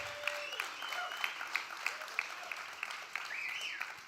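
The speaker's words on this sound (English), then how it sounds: "Round of applause for Tim." An audience at a competition semi-final claps steadily, a moderate crowd applauding at a distance with a few sharper individual claps standing out.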